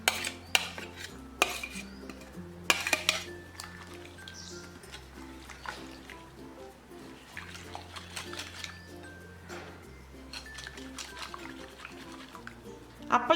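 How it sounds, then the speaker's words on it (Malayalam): A spoon stirs fennel seeds, grated coconut and chopped shallots into a bowl of masala appam batter, with soft scraping and clinks of utensil against the bowl in irregular bursts, close by, over a steady low background tone. "ഇനി ഇതിലേക്ക് ഈ എടുത്തു വെച്ചിരിക്കുന്ന പെരിഞ്ജീരകവും തേങ്ങയും ചുവന്നുള്ളിയും കൂടി ചേർത്ത് മിക്സ് ചെയ്ത് കൊടുക്കാം"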